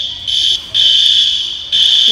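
A loud electronic fire alarm blares in repeated long bursts with brief dips between them, steady and piercing, inside a Costco store.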